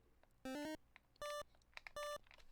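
Three short electronic beep tones from an 8-bit NES homebrew video game, the first a rising two-step chirp and the next two steady single beeps, evenly spaced and clear over a faint background hiss.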